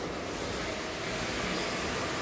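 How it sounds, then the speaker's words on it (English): Water sprays hard and steadily during a vehicle water test at the Kantanka Automobile plant, making a dense, continuous hiss that stays loud and even throughout with no speech. "So this is how the water comes out."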